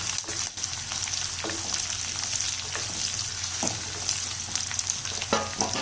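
Shallots and garlic sautéing in hot oil for a brinjal masala curry, a steady close crackling sizzle with occasional stirring scrapes.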